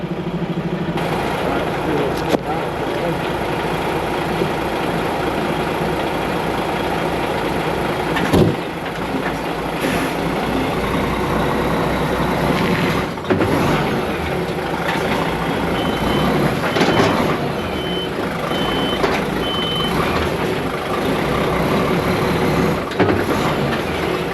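A truck engine labours and idles while trying to pull a trailer wedged underneath another trailer, with a steady loud diesel drone, intermittent clunks and a reversing beep sounding through.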